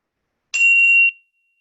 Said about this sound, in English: I'm going to chime us out.